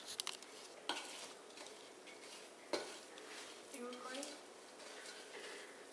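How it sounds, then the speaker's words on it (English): A spoon beats sugar cookie dough made with brown and white sugar in a bowl, giving scraping clatter with a few sharp knocks against the dish over a low kitchen hiss. "Then you beat it with this spoon."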